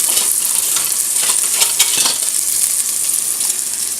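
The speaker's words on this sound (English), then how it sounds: "I hear that famous sizzle. I love that sizzle." Steady, dense sizzling of food browning in a hot pan for turkey stuffing soup, loud and close, with faint scraping of a utensil now and then.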